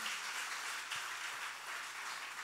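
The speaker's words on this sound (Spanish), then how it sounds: "Give a loud hand to God if you're here." Church congregation applause at a bilingual service, a soft, even patter of clapping that stays fairly distant and steady throughout.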